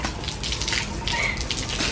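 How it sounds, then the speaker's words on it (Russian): Water is poured over a man's head at home, giving a close, continuous splashing gush. "Я тебя полью сейчас водой."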